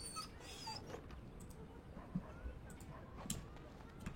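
A dog in a video game gives a few soft whimpers and whines, faint and thin over a quiet, steady background.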